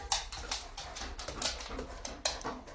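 A dog whimpering and giving short yelping sounds during outdoor trick training, several brief high-pitched bursts in an irregular rhythm, fairly close, with no talk over them.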